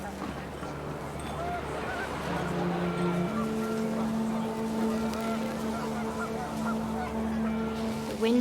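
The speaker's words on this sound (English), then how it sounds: "The wind picked up, and panicked geese appeared and quickly went." Panicked geese honking in What Remains of Edith Finch, several overlapping calls over a steady low wind-like rumble, continuous and moderately loud throughout.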